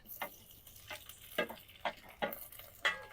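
Chopped tomatoes go into a pan of frying onion and garlic for a Jharkhandi kanda saag, giving a few soft sizzling stirs and spatula scrapes in quick irregular bursts, close and fairly quiet.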